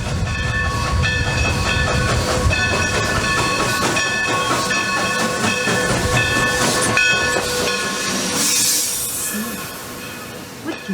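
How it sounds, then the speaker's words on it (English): A train rolls past loud and close, its steady rumble and rattle carrying hissing and a held whistle-like tone over about ten seconds, easing near the end. "It is a train."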